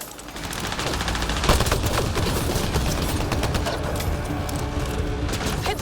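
Dense sci-fi gunfire in Mass Effect Andromeda, rapid overlapping shots and bursts in a continuous loud barrage with occasional heavier booms, no voices over it.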